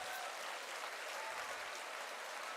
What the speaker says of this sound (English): join them and give yourself a huge round of applause